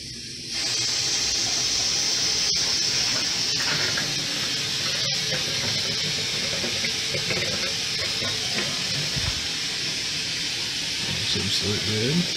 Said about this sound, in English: So we're gonna turn the water on and make sure we didn't have any leaks.